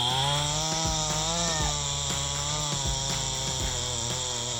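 A saw cuts the top incline of a large mahogany tree standing above a river, a steady loud engine drone with a harmonic buzz that holds throughout with small dips in pitch.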